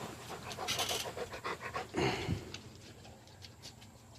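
A dog pants steadily and rhythmically nearby in short quick breaths, briefly heavier near the middle, outdoors among wood chips, with no talking.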